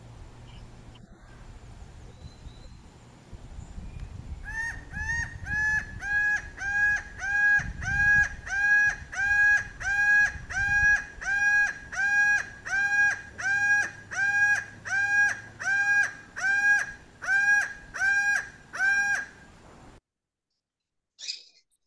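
Laughing falcon call played from a recording: a long run of evenly spaced, repeated loud harmonic hooting notes, steady rhythm for about fifteen seconds, with a brief exclamation and low room noise before it.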